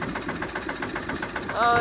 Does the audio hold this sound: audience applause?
no